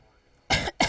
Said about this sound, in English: I always drink coffee, but it always makes me cough.